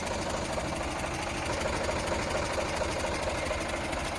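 An Eicher 485 tractor engine runs at a steady idle, close and loud, with an even, rhythmic diesel chug and vibration throughout.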